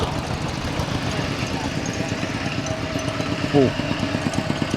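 A farm tractor engine drones steadily throughout with a low, rough chugging pulse, close by and fairly loud, with a brief higher whine near the end.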